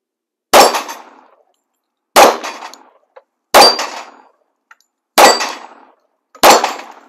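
Five sharp, loud pistol shots from a Yugo M-57 at an outdoor range, fired singly at a slow, even pace about one and a half seconds apart, each with a short ringing decay.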